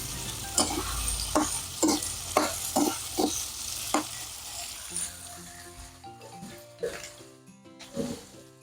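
Miso fries in a pan for sinigang with a crackling sizzle, cut by a run of evenly spaced scraping strokes as it is stirred. The stirring eases off partway through, leaving quieter sizzling and a few faint clinks.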